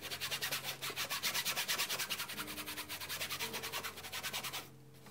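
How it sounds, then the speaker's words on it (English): A paintbrush scrubs acrylic paint on a surface in quick, rhythmic rasping back-and-forth strokes, close and fairly quiet, then stops near the end. "Plop down a little more paint and I'm back to scrubbing."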